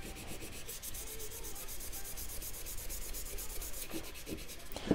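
Wood being sanded by hand with sandpaper produces rhythmic, repeated rubbing strokes, close and fairly soft, with a small knock near the end.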